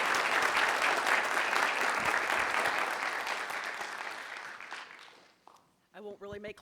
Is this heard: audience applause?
yes